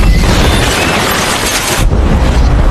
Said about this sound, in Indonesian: helm tersebut aktif dan meledakkan rumah